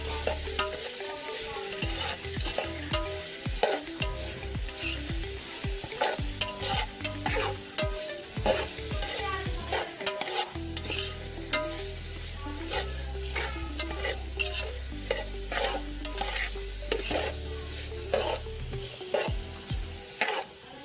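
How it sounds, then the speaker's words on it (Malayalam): Tomatoes frying in a pan for chicken curry are stirred steadily, with a continuous close sizzle broken by frequent scraping clicks of the spoon against the pan. "തക്കാളി ഇട്ട് നല്ലോണം മാറ്റിയെടുക്കുക"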